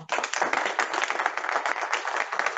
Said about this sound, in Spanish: Así es que fuerte el aplauso, por favor